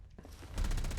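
Rapid gunfire in Fallout 4 aimed at a turret, starting soft and building into a dense, loud burst of repeated shots over about a second.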